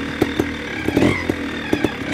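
An SWM motorcycle engine running close by as the clutch is released, a rough, throbbing idle with irregular mechanical clatter and pops, fairly loud and alone without talking.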